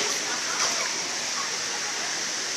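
A rushing river flows fast around a person in the water, a steady loud roar and splash filling the whole moment, with a voice briefly over it.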